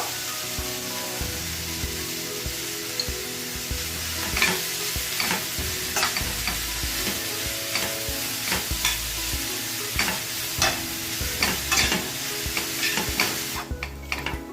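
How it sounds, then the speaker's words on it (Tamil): Salted onions sauté in a pan for an egg masala, a continuous close sizzle broken by frequent spatula stirs and scrapes against the metal. "இந்த வெங்காயத்தோட கலர் கொஞ்சம் நல்லா மாறி வர்றது வரைக்கும் இப்போ இதை நம்ம நல்லா வதக்கி எடுக்கலாம்"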